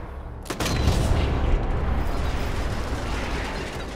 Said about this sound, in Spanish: Mira, yo disparo al barril.